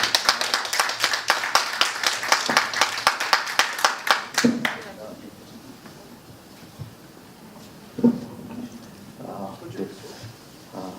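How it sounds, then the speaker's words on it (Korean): A lecture audience claps to welcome political commentator Park Sang-byeong to a newspaper academy talk: brisk, fairly close applause for about five seconds that stops abruptly, followed by a quieter room with faint stray sounds. "뜨거운 박수 부탁드리겠습니다."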